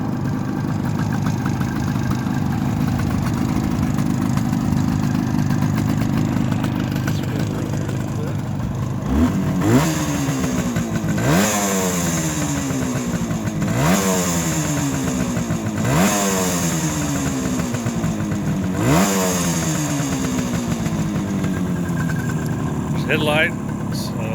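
A nearby 1973 Suzuki GT250 two-stroke motorcycle engine idles steadily, then revs up and settles back about five times in an even rhythm, loud and close throughout.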